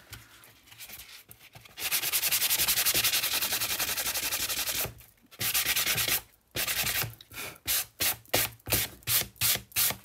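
Sandpaper scrapes across cardstock for a junk journal cover: a few light scuffs, then one long continuous rasp, followed by a run of short, quick back-and-forth strokes, close and crisp, with no talking.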